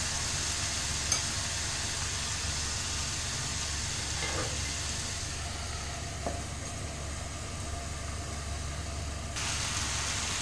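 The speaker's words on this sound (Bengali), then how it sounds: "এইভাবে আমি আবার ঢাকা দিয়ে দিয়ে 10 মিনিট কষে দেবো।" Chicken curry sizzles and fries steadily in a covered pan for a thin Bengali chicken jhol, a continuous soft crackling hiss with a few faint clinks, no talking.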